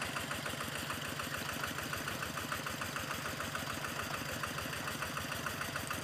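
An engine-driven water pump runs steadily, pumping floodwater from a rice field after heavy rain, its rhythmic mid-pitched engine chug and knock continuous and close.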